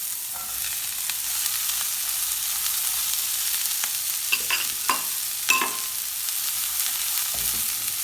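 Bitter gourd sautés in a pan with onion and green chili under a soft, continuous sizzle, and intermittent stirring knocks and scrapes grow busier toward the middle.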